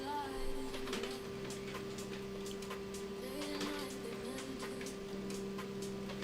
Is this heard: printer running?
yes